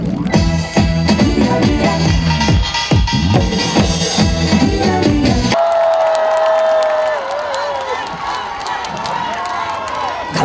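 An outdoor crowd at a trot singer's concert in a Busan ecological park cheers and claps loudly over the tail of amplified music, then the cheering and clapping carry on with a high whistle-like tone above.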